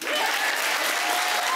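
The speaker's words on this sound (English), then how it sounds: "Yeah, you can applaud that." Studio audience applause on a Canadian daytime talk show, loud, dense and steady throughout a short burst, with no voices over it.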